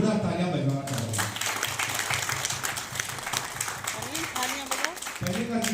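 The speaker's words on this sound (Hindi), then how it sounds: "मैं उनके लिए जोरदार तालियां बजवाना चाहूंगा।" Audience at a business opportunity meeting breaks into loud, sustained applause for first-time attendees, dense clapping continuing for several seconds with a voice speaking over it.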